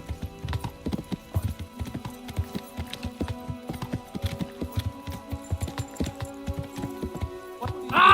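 Horse hooves clip-clop in the medieval video game Kingdom Come: Deliverance, a steady run of sharp, close hoofbeats at a brisk rhythm throughout, ending in a loud burst of sound near the close.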